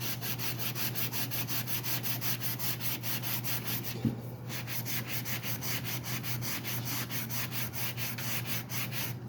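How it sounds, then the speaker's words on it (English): A sanding block scrubs rapidly back and forth over a 245A saw handlebar in fast, even strokes, close and loud, with one brief knock partway through and no talk. "Give the handlebar a quick rub down with the sanding block or sandpaper"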